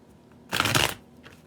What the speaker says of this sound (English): Let's give these a good shuffle here.